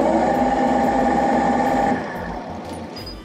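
A wood lathe spinning a small Christmas ornament blank at 1000 RPM, a steady motor hum with a faint rhythmic thump that drops in level partway through, close and without talk.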